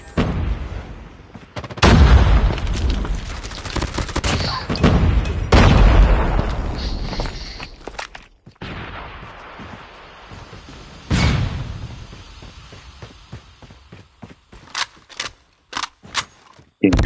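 Heavy gunfire and booming blasts in the COD Mobile video game, loud bursts at the start that fade into scattered sharp shots and cracks toward the end.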